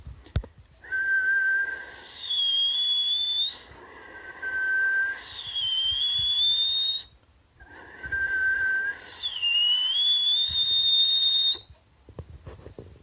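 Tooth whistle played with the lower lip raised: four long sustained notes in two pairs, each with a sweeping pitch glide, close and clear with short breaks between phrases.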